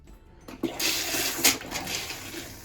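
An RV toilet flushes pink antifreeze down into the holding tank, a close rushing gush of liquid that starts abruptly and keeps pouring steadily.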